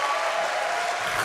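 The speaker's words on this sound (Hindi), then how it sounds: "जोर से तालियां बजाओ" An audience claps at an opening ceremony of a literature festival in Lahore, a dense, steady burst of applause that runs through the whole short moment with no talking.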